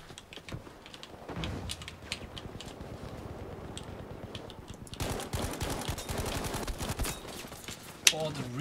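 Bursts of rapid automatic video game gunfire crackle in the background, growing denser and louder in the second half, with keyboard clatter and a person talking mixed in.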